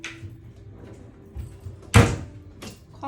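A hotel room's bathroom door at Disney's Wilderness Lodge swings shut with a single solid thud near the middle, followed by a faint latch click, in a quiet room with no talking.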